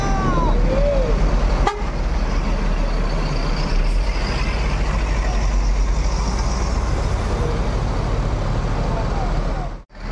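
A Volvo B11R coach, the MPM Queen Sultan Class, pulls away from its departure point with a broad rumbling engine and brief horn toots, followed by a short hissing air release at the very end.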